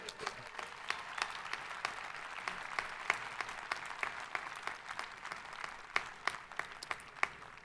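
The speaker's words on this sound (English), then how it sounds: "give yourselves a round of applause because you deserve it." Graduates applaud at a 2021 college commencement ceremony for arts and humanities, a steady wash of clapping from a large crowd with sharp individual claps popping through, sustained for several seconds without pause.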